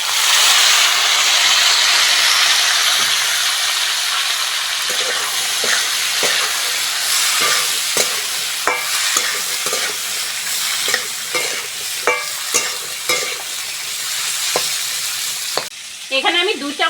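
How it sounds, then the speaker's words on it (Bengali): Capsicum, green chilli and peas stir-fried together in a hot pan for prawn fried rice, with a loud, steady sizzle and hiss, then the scrape and clatter of a spatula stirring and tossing the vegetables close by. "ক্যাপসিকাম, কাঁচা লঙ্কা আর মটরশুঁটি একসঙ্গে দিয়ে দেবো।"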